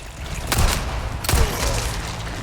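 Two sharp flashbang grenade blasts in Resident Evil 4 Remake's Separate Ways DLC, loud booming bursts about a second apart over a low ambient rumble.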